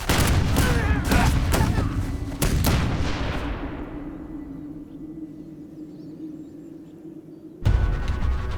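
A volley of musket fire from a period battle scene: several sharp shots in quick succession at the start, then a long rumbling decay, and another loud blast near the end.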